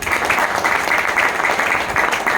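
A crowd at a success-journey gathering in Meerut claps vigorously, a thick, even roar of hands that stays loud and steady for the whole stretch.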